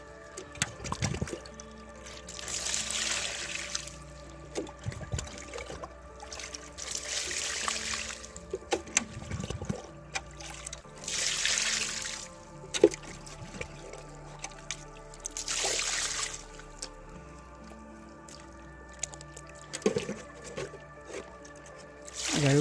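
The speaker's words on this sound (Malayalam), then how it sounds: "ചെറുതായിട്ട് വെള്ളം ഒഴിച്ച് കൊടുക്കുക" Water is poured gently into a bottle planted with a lotus in a series of soft, separate trickling bursts with quiet gaps between them.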